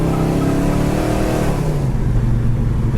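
A blue 1969 Chevrolet Chevelle Super Sport engine revs up loudly nearby, then the pitch drops as the throttle eases into a deep, rumbling idle, with no voices over it.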